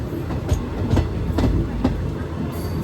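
Malabar Express sleeper train rolling through Kayamkulam junction in Kerala, a steady loud rumble with periodic rail-joint clacks recurring about every half second, no voices.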